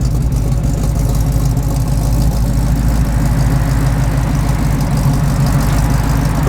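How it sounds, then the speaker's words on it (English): A 1985 GMC Sierra Classic 1500 pickup idles with its dual exhaust, a steady, loud low rumble that holds even throughout with no talk over it. "Good sounding dual exhaust."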